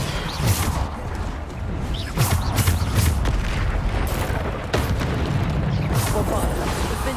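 Repeated Bombarda blasting spells in Hogwarts Legacy combat, deep booming impacts and crashes landing every second or so amid whooshing spell effects and busy game noise, with a voice shouting over the action.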